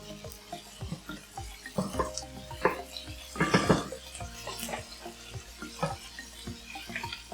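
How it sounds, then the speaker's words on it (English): Peppers fry in a pan with steady sizzling, punctuated by utensil scrapes and clinks as they are stirred, close and moderately loud with no talking. "let's cook them to the point the peppers are soft and tender"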